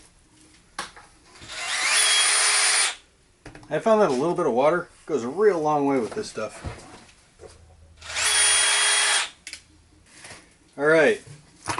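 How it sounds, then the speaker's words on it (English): A rotary tool fitted with a wide burnisher whirs in two bursts of a few seconds each while it works the edge of thick holster leather, steady and fairly loud, with someone talking between and after the bursts. "Since it's thicker, I have to use a wider burnisher."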